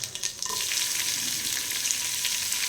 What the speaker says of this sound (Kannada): ಇಲ್ಲಿ ನಾನೊಂದು 5 ಮೆಣಸಿನ್ಕಾಯಿನ ಚೆನ್ನಾಗಿ ಆ ಥರ ಕಟ್ ಮಾಡಿ ಇಟ್ಕೊಂಡು ಫ್ರೈ ಮಾಡ್ಕೊಳ್ತಾ ಇದ್ದೀನಿ ಆಯಿಲಲ್ಲಿ